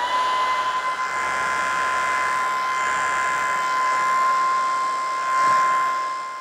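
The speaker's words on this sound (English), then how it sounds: "I'm looking forward to trying out this vacuum trimmer" A Vacutrim vacuum hair trimmer runs close by with a steady, even whine and airy hiss, holding constant throughout with no talk.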